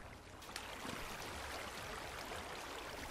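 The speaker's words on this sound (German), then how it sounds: "Aber mit dem Fluss ist er echt geil gemacht, ne? Dass der Fluss fließt." River water flows steadily in Minecraft, a soft continuous rushing wash with a faint click near the start, no talking.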